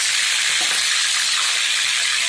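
Onion paste hits hot oil in a clay pot for mutton handi, producing a loud, close, steady sizzle and hiss that stays level for a couple of seconds without speech.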